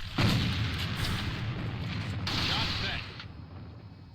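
A grenade blast in the A.V.A shooter during a tournament grand final, a heavy boom near the start followed by rumbling gunfire-like game noise, with a caster talking over it throughout.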